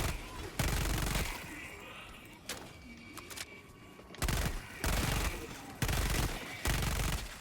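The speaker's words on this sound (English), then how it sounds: "it is a fucking Uzi" Uzi submachine gun fire in a video game comes in several loud, rapid automatic bursts of about a second each, separated by quieter stretches.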